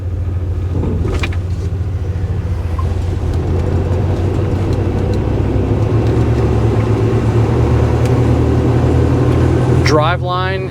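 A 1990 Chevrolet K1500 4x4 pickup with its original fuel-injected 350 V8 and 700R4 overdrive transmission drives along, a steady low engine rumble and road noise running throughout, with someone talking over it.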